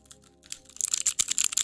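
Quick clicks on an external numpad, starting with a few soft taps and building to a rapid, close clatter of keys over a second or so.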